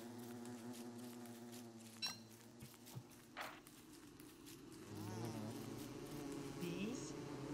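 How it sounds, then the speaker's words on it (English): Buzzing bees swarming across a field in the video game Don't Starve Together, a steady droning hum with a few short clicks and game effects, while people talk over it. "Bees! Oh my god, there's so many."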